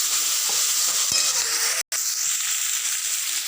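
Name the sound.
onions sautéing in a pan until brown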